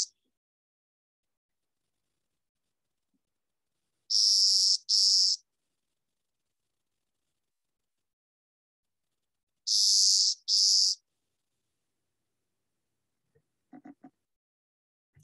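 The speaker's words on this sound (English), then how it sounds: "And that's the clay-colored sparrow." Clay-colored sparrow song: two pairs of flat, rasping buzzes on a single pitch, well separated by silence, clear and fairly near, followed near the end by a few faint, lower chirps.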